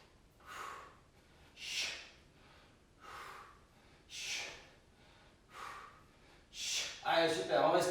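Forceful exhaled breaths during a plank exercise, about six strong, evenly spaced blows of air close to the mic, the last ones heavier and rougher.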